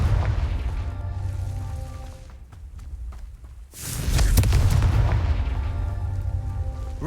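A Confringo fire-blast spell in Hogwarts Legacy erupts with a loud, sudden explosive burst after a quieter lull, then rumbling booms carry on amid steady combat noise.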